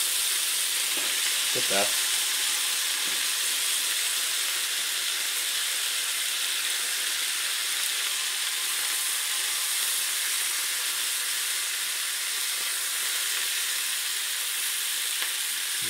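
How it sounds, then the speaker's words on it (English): Sausages sizzle and fry steadily in a pan, a dense continuous hiss that holds at the same level throughout, with a brief spoken remark near the start. "Now, we have to turn these sausages carefully."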